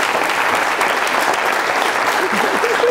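A student crowd at a Dublin Q&A with Michael Palin keeps clapping, a thick, even wash of applause that stays loud for the whole stretch.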